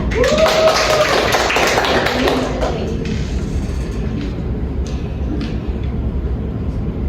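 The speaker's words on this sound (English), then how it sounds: "Give applause to Daniela." A classroom breaks into applause for a student, a dense patter of clapping that swells briefly and then fades into quiet room noise.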